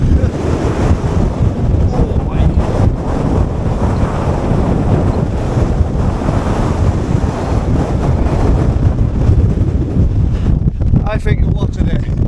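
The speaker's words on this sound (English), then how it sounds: "especially when the wind gets you like that" Strong gusting wind batters the microphone on a mountain hike at Wetherlam in the Lake District, a loud continuous roar for the whole stretch, with a voice briefly audible near the end.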